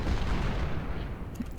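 Cannon and artillery fire in the Civil War strategy game Ultimate General: Civil War, with three guns on one target at Malvern Hill. Dense, continuous low booming rumbles as a steady barrage, plus a brief sharper report near the end.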